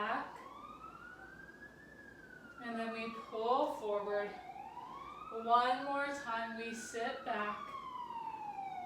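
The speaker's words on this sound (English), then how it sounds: "Sorry about the siren." A city emergency vehicle siren wails and rises and falls in the distance, passing steadily behind an instructor's calm voice leading a mat Pilates class.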